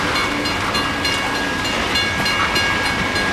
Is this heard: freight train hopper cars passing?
yes